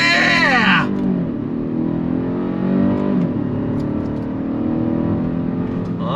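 A 2022 Kia Stinger GT-Line sport sedan with an 8-speed automatic accelerates hard on throttle, its engine droning and rising steadily in pitch, with a brief shift near the start and a person talking over it.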